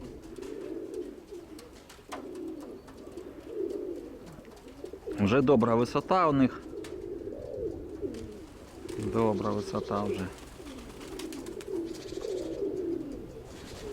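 Outdoors, pigeons coo in two louder bursts amid steady lower-pitched background sound, while someone talks on and off.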